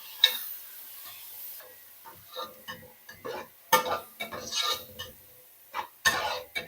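A spoon stirs grated medium onion in a pan for butter chicken, making intermittent scraping clicks and soft sizzling bursts, spaced irregularly and heard close with no talk.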